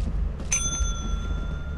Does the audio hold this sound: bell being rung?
yes